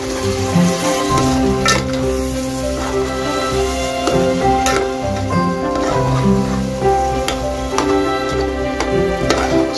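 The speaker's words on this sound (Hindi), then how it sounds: "अच्छा सा भून के टमाटर भी देखो भुने गए, इसके अंदर भी मसाला डाल दिए" Tomatoes and masala fry for a Hyderabadi mutton curry, a steady loud sizzle with crackling pops and the scrape of a spoon stirring the pan, with a voice speaking at times.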